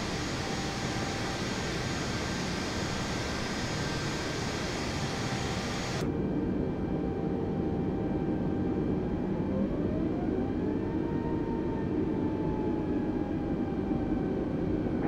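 An Airbus A320 jet accelerating down the runway on its takeoff roll in Microsoft Flight Simulator: a steady, loud broadband engine roar that thickens partway through, with a faint whine rising and falling above it.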